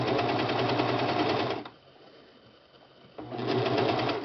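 A serger sews a fitted cloth baby diaper, running steadily and loud for about a second and a half, pausing briefly, then starting up again to the end.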